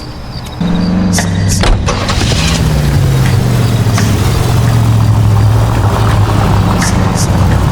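A period car engine in the L.A. Noire game starts and settles into a loud, steady low rumble that rises slightly as it pulls away, with a few clunks early on.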